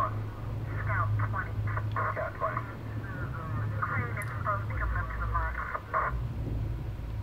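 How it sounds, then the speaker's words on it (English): A muffled telephone voice in a horror video game, a tinny, filtered voice speaking in short bursts as if over a phone line, set over a low steady hum and droning background. "I can hear the phone."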